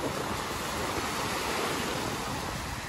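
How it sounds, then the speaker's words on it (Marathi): Large ocean waves break on a Chennai beach, making a continuous, even wash of surf and windy rumble that holds steady for the whole clip. "ए तिकडून लय मोठे मोठे लाटा आलेत आता परत"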